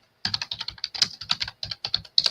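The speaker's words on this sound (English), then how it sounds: "If you hear me typing, that's what I'm doing." Someone types on a computer keyboard in quick bursts of crisp, close key clicks, about a dozen strokes over a couple of seconds, with no voice.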